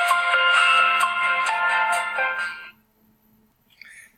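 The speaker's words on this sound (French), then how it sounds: "désolé pour la sonnerie" A phone ringtone plays loudly for about two and a half seconds, a bright repeating melodic chime, then cuts off into near silence with a faint blip at the end.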